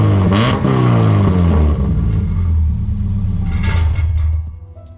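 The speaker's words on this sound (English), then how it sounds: "I'll show you a real quick clip of what it sounds like right now. It's basically straight pipe." A Subaru with a broken, rusty straight-pipe exhaust runs loud and close, with a raspy, rumbling drone. It blips up in pitch a couple of times, then drops off sharply at the end.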